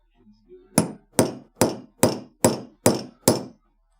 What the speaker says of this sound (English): I'm going to use a steel hammer.